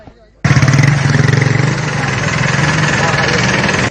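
A police motorbike engine starts up abruptly and runs loud and close, a throbbing pulsing idle that holds steady to the end.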